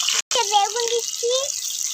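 Brinjal slices sizzle and crackle in hot oil, a steady close frying hiss with a brief gap near the start and a voice speaking over it.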